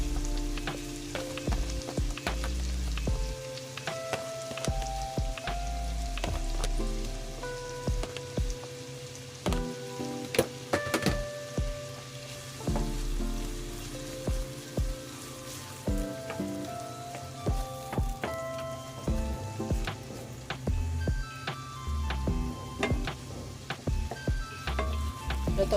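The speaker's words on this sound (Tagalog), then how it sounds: "Ang sibuyas natin, lutuin muna natin maigi para lumabas yung aroma." Plenty of onions fry in a pan for pork sisig, a soft steady sizzle with scattered crackles and pops, close but fairly quiet, and no talking.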